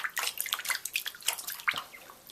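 Running sink water splashing as a cat washes its paws under the tap, an irregular patter of close splashes and drips with no talk.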